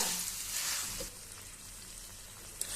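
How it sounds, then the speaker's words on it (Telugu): Chicken marinated with salt, chilli powder, turmeric and a little oil frying in a pan, a steady close sizzle that is loudest at the start, then settles lower, with a small clatter near the end. "చికెన్ బాగా వేగిపోయింది ఫ్రెండ్స్"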